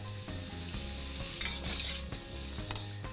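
Pork stir-fried in a pan, shoveled and flipped to keep it from sticking: a steady loud sizzle with rhythmic scraping and clanking strokes of the spatula, close up and without talk.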